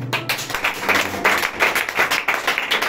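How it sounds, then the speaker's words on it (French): A congregation at a church service claps and applauds for the Lord in a sustained, lively burst of clapping that fills the room at a steady level. "Acclamez pour le Seigneur."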